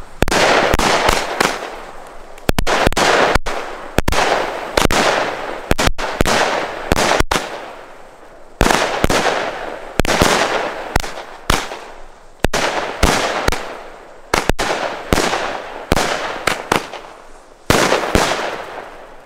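An Alba Ahsoka three-shot fan firework battery going off outdoors: loud, close cracking bangs fire in quick irregular bursts, roughly a dozen sharp reports with short pauses between volleys.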